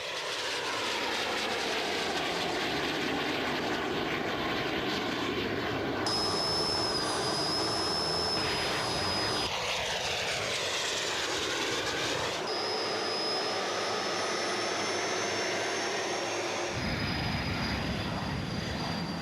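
A loud, continuous aircraft engine roars throughout, with high whining tones rising and shifting as the plane passes and recedes.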